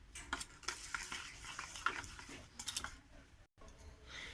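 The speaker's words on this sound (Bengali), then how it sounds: "আমি এর মধ্যে এই চিনিটা দিয়ে মিশিয়ে নেব" Sugar is stirred into a thick semolina cake batter, making soft wet scraping and slapping strokes with a few light clinks of the spoon against the bowl, close and quiet, pausing briefly near the end.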